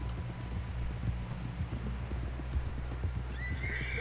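Horse hooves clopping steadily through snow in a Red Dead Redemption 2 blizzard, with a continuous low rumble of wind beneath, and a loud whinny breaking out near the end.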